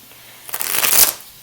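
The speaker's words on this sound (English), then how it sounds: "Okay, let's shuffle." A deck of tarot cards is riffle-shuffled close by, a quick rising flurry of crisp papery flutters that peaks and snaps off within about half a second, with no talking.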